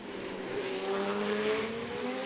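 Formula 3 race cars with 3.4-litre engines climb San Francisco Hill at the Macau Grand Prix street circuit, a loud, close, high-pitched engine howl rising steadily in pitch under hard acceleration.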